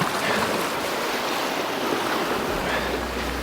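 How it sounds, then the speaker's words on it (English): Sea waves surging against rocks at a spring tide on a rocky shore, a loud, continuous broadband wash of water with wind rumble, close and unbroken throughout. "Hopefully try not to get too wet. Next wave."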